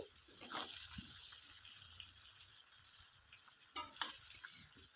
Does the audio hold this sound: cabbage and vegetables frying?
yes